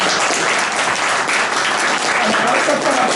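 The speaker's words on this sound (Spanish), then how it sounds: "El aplauso para Juana Serra, como dice ella." Loud, dense audience applause at a library book presentation, steady continuous clapping up close throughout.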